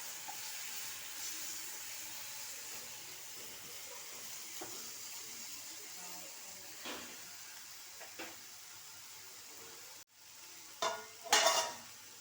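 Tomatoes softening in a pan with a little oil for palak spinach chutney, a faint steady sizzle with occasional soft stirring taps and a sharper clatter near the end.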